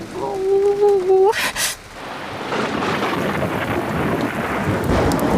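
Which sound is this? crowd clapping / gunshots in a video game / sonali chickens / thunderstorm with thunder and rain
thunderstorm with thunder and rain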